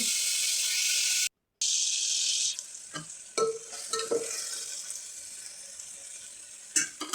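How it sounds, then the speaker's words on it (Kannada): Vegetables for a saagu frying in oil, opening with a loud steady hiss that cuts out briefly, then continuing as a softer sizzle broken by several scrapes and clatters of stirring, close by, with no voices. "ತರಕಾರಿ ಹಸಿ ವಾಸನೆ ಹೋಗೋವರೆಗೂ ಚೆನ್ನಾಗಿ ಫ್ರೈ ಮಾಡ್ಕೊಳ್ಳಿ."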